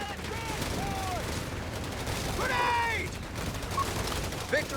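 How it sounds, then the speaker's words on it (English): Rifle fire in the strategy game Company of Heroes 3 during a 2v2 match, with continuous crackling volleys and distant battle noise layered under whistling effects, steady and dense throughout. "6 riflemen from Teal. That's a lot of rifles."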